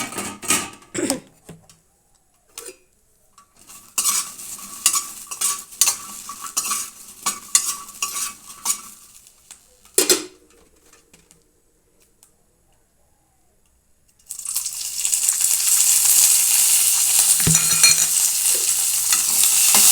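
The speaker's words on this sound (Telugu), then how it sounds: "కొంచెం ఆయిల్ వేసి వేపుకోవాలండి చూడండి ఇలా దూరగా మంచిగా వేపుకోవాలండి" Green chillies frying in a little oil: irregular clicks and taps of a utensil against the pan at first, then a loud, dense sizzle that starts abruptly and continues steadily to the end.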